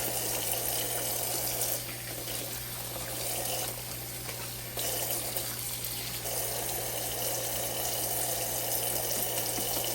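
Kitchen tap water streams steadily over leaves being rinsed in a sink, a loud continuous gushing and splashing that shifts slightly as the leaves move under the flow.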